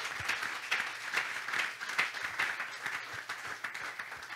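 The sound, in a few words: congregation applauding to acclaim God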